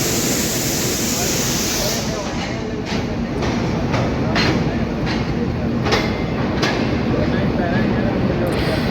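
A moving passenger train on the Sialkot to Wazirabad line, heard from on board as a steady, loud rumble with faint, regular clickety-clack beats from the rails. Voices can be heard talking over it now and then.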